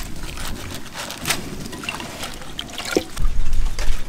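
Freshly cut spinach drops into hot water in a village kitchen, giving soft splashing and trickling that swells louder toward the end.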